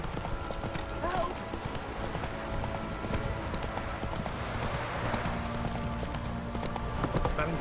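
Roach the horse gallops in The Witcher 3, steady rhythmic hoofbeats pounding throughout over game ambience, with voices talking in the background.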